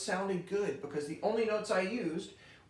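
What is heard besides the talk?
No everyday noises stand out.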